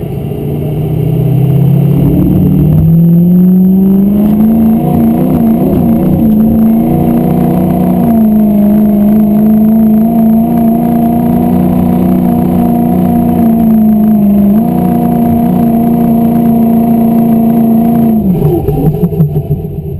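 A 6.0 Powerstroke diesel truck pulls a sled in a work stock diesel class, its engine roaring loud and close under heavy load, pitch climbing early then holding a strained, droning note before dropping off near the end.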